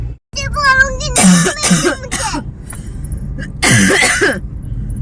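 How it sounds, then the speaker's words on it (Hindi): A child coughs several times in short harsh bursts, close up, with brief pauses and some vocal sounds between the coughs. "मुझे खांसी आ रही है।"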